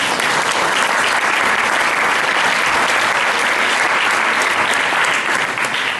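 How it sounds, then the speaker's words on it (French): A large audience at a talk breaks into loud, sustained applause, a thick unbroken roar of clapping that stays even and full for several seconds, with no speech cutting through. "Vous pouvez les applaudir."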